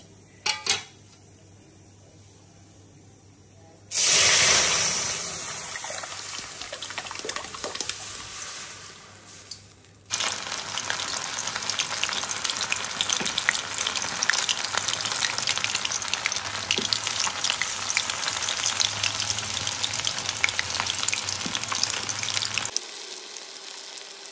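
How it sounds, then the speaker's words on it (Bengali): Marinated lote fish (Bombay duck) frying in hot oil in a wok, a steady loud sizzle and crackle that swells after a brief clatter and continues evenly, close up, with no talk. "দেখো লোটে মাছ ভাজবো"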